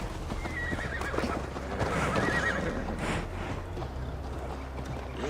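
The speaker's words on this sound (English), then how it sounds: "Mount up, Eivor. It's a long ride to Tamworth" In the video game Assassin's Creed Valhalla, a horse whinnies and its hooves clip-clop over a low ambient rumble, the neigh rising mid-clip before the steps fade slightly.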